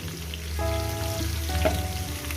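Small chopped vegetables, spinach and lentil dumplings among them, fry in oil in a pan for a vegetarian chorchori, a steady close sizzle with tonal kitchen hum layered over it and no talking.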